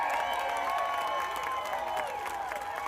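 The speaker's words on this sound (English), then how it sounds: "he received a standing ovation and was met with massive cheers and applause" A large crowd gives a standing ovation, cheering and applauding continuously, a dense wash of clapping and shouting that stays loud and steady throughout.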